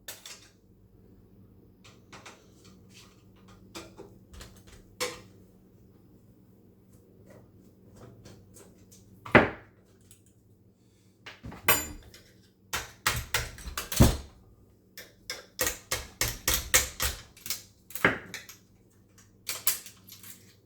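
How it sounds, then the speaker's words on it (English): A retaining ring and pivot rods come off a Phoenix M1 water-activated tape dispenser with sharp metallic clicks and clacks, sparse at first and then a quick flurry of close taps and knocks near the end. "you can just pop that retaining ring off. So let me take these 2 pivot rods out."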